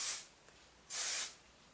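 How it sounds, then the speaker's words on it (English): Two short bursts of heat protectant spray misted onto hair, the first at the start and a longer second burst near the end, close and soft with quiet between them. "we're just going to give that a light spray"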